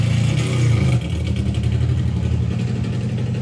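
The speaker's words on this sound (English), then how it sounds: "You could hear that as he tried to pull forward. It dragged the engine down." A drag racing motorbike engine at an FIA/FIM event revs loudly, then bogs down after about a second and drops to a lower, labored drone.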